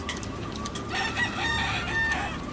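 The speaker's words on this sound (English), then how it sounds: "Nobody here but us chickens" Chickens cluck with crowing calls mixed in, moderately close in a busy farmyard setting, with several overlapping calls over a steady background.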